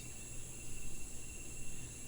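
Cicadas and other insects drone in a rainforest, a steady high buzzing chorus with layered pulsing tones, fairly quiet and continuous, with no voices.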